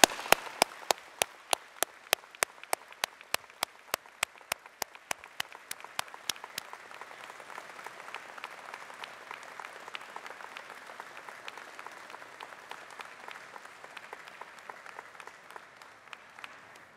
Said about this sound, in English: Graduates, please join me in applauding the support that they've given you over the years.